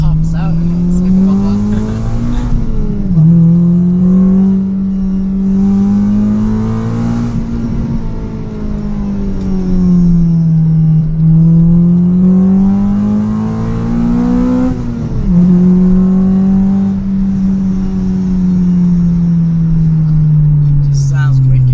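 Honda EK car with a stock engine, revving repeatedly through its modified exhaust, with the pitch rising and falling in slow waves up close while people talk over it.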